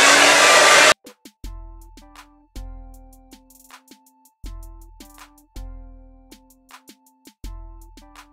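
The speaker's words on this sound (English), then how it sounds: "I'm gonna grab my blow dryer" A blow dryer drying hair roars loudly for about a second, then cuts off abruptly, leaving a plucked, tuneful melody with deep bass notes playing on its own.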